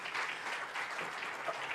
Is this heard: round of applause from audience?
yes